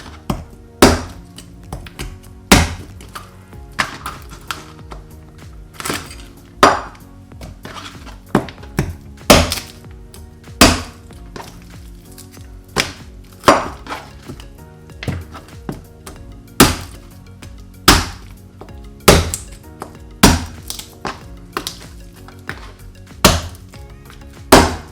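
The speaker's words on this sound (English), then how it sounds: "give it a couple of slashes, and then we can" Heavy knife chops cut through a whole duck's spine and carcass on a cutting board, sharp loud thunks landing irregularly every second or so, close and alone without talk.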